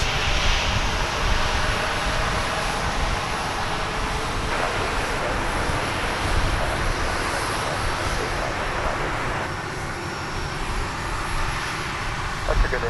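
A jet airliner at DFW Airport, American Airlines Flight 2272 bound for Reno, Nevada, roars steadily and loudly for the whole stretch, a broad engine rush with slight surges, with faint talk beneath.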